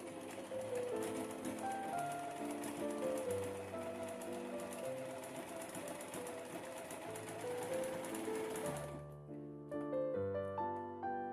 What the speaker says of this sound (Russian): Начинаем просто шить.